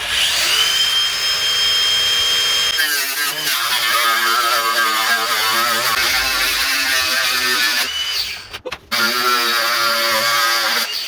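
A power saw or similar power tool cuts into the rear bumper of a Landcruiser 200, a loud continuous whining grind with changing pitch that runs almost unbroken, dropping briefly near the end before resuming.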